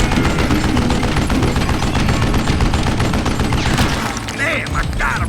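Rapid, loud gunfire from the Wild West shooter Call of Juarez: Gunslinger, a dense sustained volley of overlapping shots and booms that thins slightly toward the end as a voice briefly cuts in.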